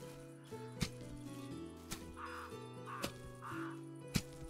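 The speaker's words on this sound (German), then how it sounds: "Ich höre Krähen." Several harsh crow caws ring out over steady music in the game Medieval Dynasty, spaced a second or so apart with short percussive hits in between.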